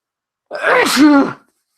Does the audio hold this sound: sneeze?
yes